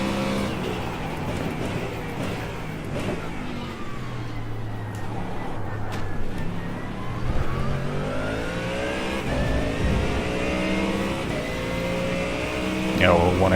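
LMP2 prototype race car engine in iRacing, heard as a sustained revving drone with rising and falling pitch as cars pass and shift, loud and continuous, with someone talking over it at times.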